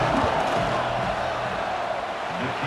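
Football stadium crowd at a Western Michigan versus Michigan State college game roaring steadily before a field goal kick, a dense continuous wash of voices and shouts.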